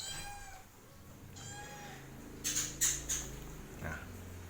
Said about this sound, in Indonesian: Tuh kucingnya sangat rewel ya,